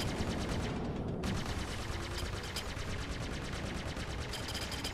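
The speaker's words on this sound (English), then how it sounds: "Keep firing." Rapid bursts of ship weapons fire in a space flight combat game, a dense, continuous stream of ballistic and energy shots hammering away loud and steady with no voices over it.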